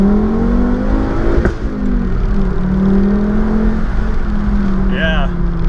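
A 2004 Volvo S60R accelerates hard from a standstill, its engine note climbing steadily through first gear with a strong, continuous rising hum, heard from inside the car.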